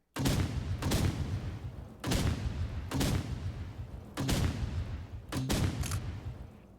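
Loud video game gunfire from a six-round RPG-style weapon, four heavy booming shots spaced about two seconds apart, each with a lingering rumbling tail, no talking.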